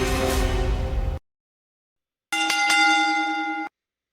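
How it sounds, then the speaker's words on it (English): A bell rung to open a wrestling podcast, two loud ringing clangs separated by about a second of silence, each holding a steady bright tone before cutting off sharply. "let's ring the damn bell"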